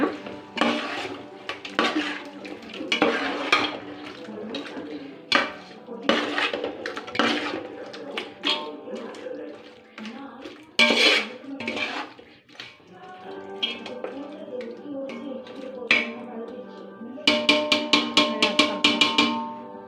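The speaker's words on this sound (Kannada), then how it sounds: "ಮೊಸರು ಹಾಕೋಣ ಸ್ವಲ್ಪ ಚೆನ್ನಾಗಿ ಕಲಸೋಣ" Curd being mixed into chicken biryani masala in a pot for Hyderabadi dum biryani: repeated clanks and scrapes of a spoon against metal, close and loud, with short pauses and a rapid rattling burst near the end.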